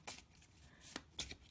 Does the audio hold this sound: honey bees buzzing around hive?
no